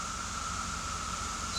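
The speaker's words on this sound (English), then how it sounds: "Big old cicada bugs." A steady, sustained cicada drone comes from insects in the trees, about twenty on one tree nearby, and it runs unbroken with no pauses or voices.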